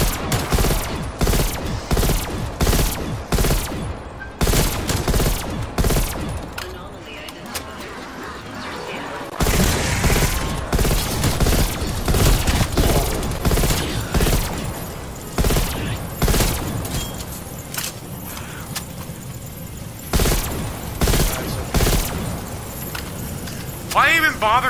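Rapid bursts of video game gunfire, dense volleys and single shots, sound throughout under and between excited player chatter during a live-streamed game.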